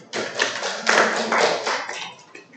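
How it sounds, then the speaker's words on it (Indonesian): Students in a science class clap their hands together, a close, bright burst of applause that swells and fades in waves over a couple of seconds. "Tepuklah tangan."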